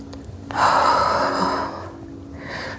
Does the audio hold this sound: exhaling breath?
yes